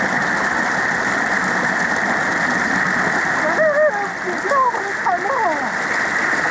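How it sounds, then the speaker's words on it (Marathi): Rain pours steadily at a foggy campsite as a dense, unbroken hiss, with voices talking over it partway through. "धुक्क आणि पाऊस दोन्ही आलं एकत्र."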